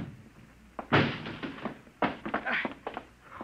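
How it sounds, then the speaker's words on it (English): A door is broken down in a radio drama sound effect: two heavy, sharp crashing blows about a second apart, each followed by splintering rattles, heard fairly faintly. "Break down the door"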